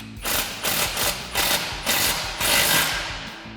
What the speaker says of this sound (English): go ahead and tighten this down with a 15mm socket.